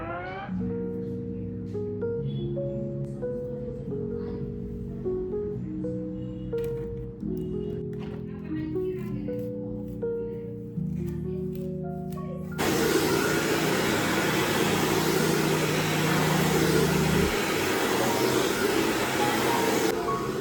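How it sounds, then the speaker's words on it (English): A hair dryer blowing on hair at home starts up abruptly after a stretch of melodic music, then keeps up a loud, steady whooshing roar to the end. "let's first blow dry it, then I'll think about the rest later on"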